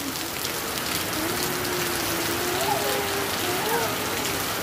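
Heavy rain pours down in a village, a dense, continuous hiss of drops at close range, with faint voices low in the background.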